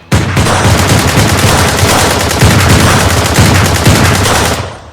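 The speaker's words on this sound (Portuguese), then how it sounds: "Frost reage mandando bala pra cima de todo mundo e um tiroteio começa." Loud, sustained rapid gunfire, a continuous burst of automatic shots with overlapping volleys, lasting several seconds without pause and then cutting off abruptly.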